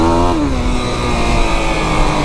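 A stock Yamaha YFZ 450R ATV engine revs up close and loud. The pitch slides down briefly, then it holds a raspy, buzzing drone.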